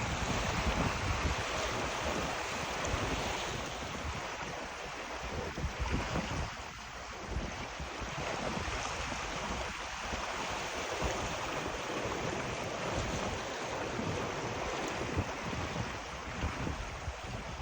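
Waves slap and wash continuously against a 16 ft O'Day Daysailer making a rough lake crossing, with steady wind buffeting the microphone throughout; loud, close and unbroken, no voices.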